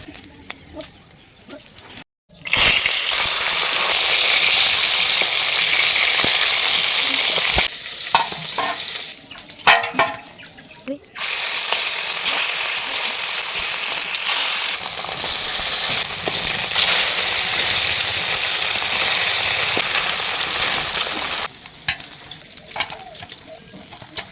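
Loud, continuous sizzle of rupchanda (pomfret) fish frying in a little oil, a harsh crackling hiss that cuts out briefly and resumes, with a few clatters in between.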